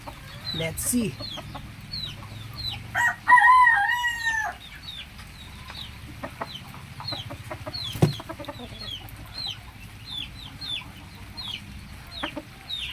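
A gamecock rooster crows loudly once in the middle, surrounded by steady clucking and chirping birds, with a low murmur of voices in the background.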